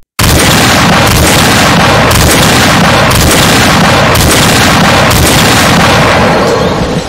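An army firing squad unleashes a volley of gunfire at an execution, a very loud, dense, continuous roar of shots with heavier blasts recurring about once a second, no voices heard.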